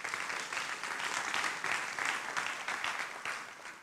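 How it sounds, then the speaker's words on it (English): Applause from an audience at the close of a legal talk, many hands clapping in a dense, sustained burst with slight swells, close and steady, with no one speaking. "And also keep clapping and thank yourselves for coming along today."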